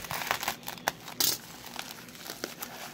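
Hands crinkling and tearing open a trading card mail package, close irregular bursts of plastic and paper crumpling with one sharper rip, no voices.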